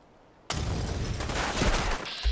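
Sudden heavy gunfire erupts in Fallout 4 during a fight with Super Mutants, a loud, dense burst of rapid shots that begins after a brief quiet moment and keeps rattling to the end.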